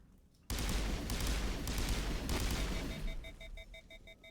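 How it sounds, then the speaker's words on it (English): Burst-fire gunshots from a weapon in the video game Mass Effect, played on Insanity difficulty: after a quiet start, a loud dense volley of rapid shots in close bursts, then ringing electronic tones as the firing tails off. "Well, I guess it is a burst fire."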